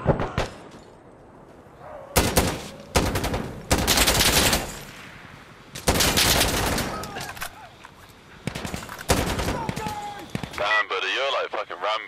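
Rifle fire in Insurgency Sandstorm PvP combat: loud, close bursts of shots in several clusters, separated by quieter gaps with distant ambience and a faint ringing tone.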